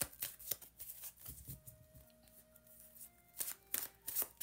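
Tarot cards are shuffled in quiet, close bursts of riffling and soft slaps, with a short pause in the middle before more shuffling.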